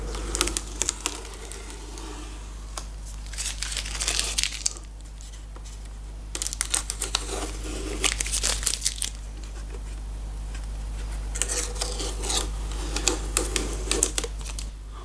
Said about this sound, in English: we can just take all the tape off now.